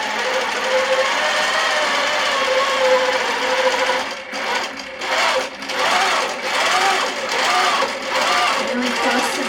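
A domestic sewing machine bastes along the edge of a pinned quilt, its steady stitching hum running nearly throughout with brief pauses and restarts near the end; close and loud, with no voices.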